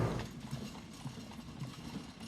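Hooves of Caisson Platoon horses at Arlington National Cemetery clop in a slow, steady walking rhythm on pavement, moderately close, with faint creaking and rattling of harness and wheels.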